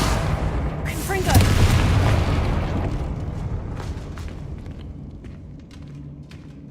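In Hogwarts Legacy, a Confringo fire spell goes off as a heavy blast that swells early and then rolls off into a long, fading rumble, with a dull low roar continuing underneath.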